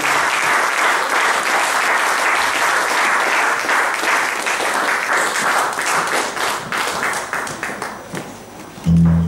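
A church congregation applauds loudly at the close of a service, dense sustained clapping from a crowd that fades slightly toward the end before a brief low thump.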